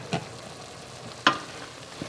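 Meat for loubyeh bi lahmeh (green beans with meat) frying in a pan gives a soft, continuous sizzle, broken by a few sharp scraping clinks as it is stirred.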